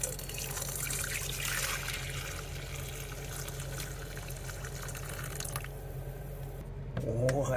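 Hot water runs steadily into a sink, a continuous close splashing stream with a brief gurgle near the end.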